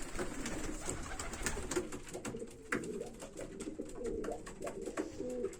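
Pigeons feeding on grit, with soft cooing and bird calls mixed with scattered pecking clicks and shuffling, close and steady throughout without speech.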